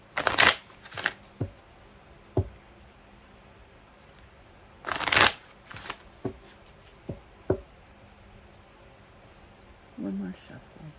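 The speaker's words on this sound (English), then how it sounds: "One more shuffle." Playing cards shuffled by hand during a tarot-style reading, heard as several short riffling bursts and sharp flicks spaced across the recording, close and fairly loud, with brief quiet gaps between.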